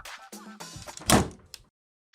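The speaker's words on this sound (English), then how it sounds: "Please close the door." A door closes with a single heavy, close thunk in the middle, followed by a smaller knock and then near silence, with indistinct sounds just before it.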